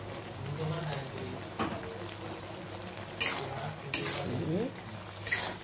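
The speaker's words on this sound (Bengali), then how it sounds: "ভালো করে মিশিয়ে দিতে হবে।" A spoon stirs coriander paste into a vegetable curry in a pan, with soft scraping, a few sharp clinks against the metal and a faint sizzle underneath, all quiet and close.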